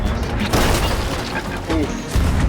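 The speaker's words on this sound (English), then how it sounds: "they tried to special cannon us" Heavy cannon fire in the pirate video game Sea of Thieves: dull, booming blasts thud in quick succession, mixed with busy game clatter while players talk over it.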